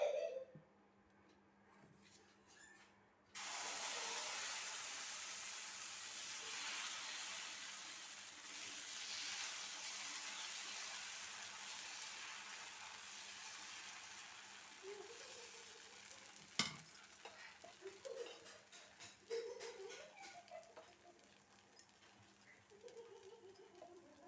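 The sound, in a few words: pearl millet dosa batter cooking on a hot griddle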